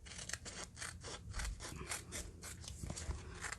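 Scissors cut off part of a paper house tag in a rapid series of crisp, rhythmic snips and rasping slides, close and fairly quiet with no voices.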